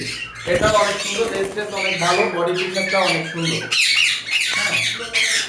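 Ringneck parrots at a bird farm in Bangladesh give loud, harsh squawks in quick bursts, close by, with several birds calling over one another. People talk quietly beneath the calls.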